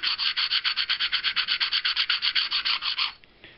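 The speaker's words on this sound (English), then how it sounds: "the first thing I do is I take my fine grit abrader" A fine grit abrader is rubbed back and forth along the edges of a knife handle slab. About twenty quick, even rasping strokes come up close and loud, then stop abruptly with only faint scraping left.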